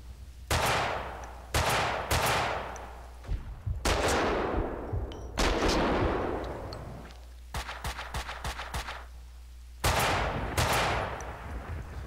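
Sniper gunfire in Max Payne 2, heavy booming shots each trailing into a long echoing decay, interspersed with a quick burst of rapid automatic fire, loud and close with no talk.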